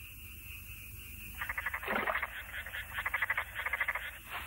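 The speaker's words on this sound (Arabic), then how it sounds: "زهرة، ضعي الضفادع التي نلتقطها داخل الكيس" Cartoon frogs croak in a rapid rhythmic burst of pulsing calls after a quiet start, fairly loud and close, with no talking over them.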